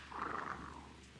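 A cat in a video game purrs briefly, a soft close rumbling burst lasting about a second, alone without talk.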